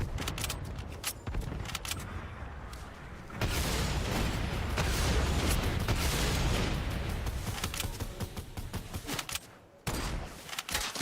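Gunfire and blasts in a Fortnite Battle Royale match build into a loud, dense burst of explosive noise and shooting, the heaviest part in the middle before it cuts off abruptly, with no talking.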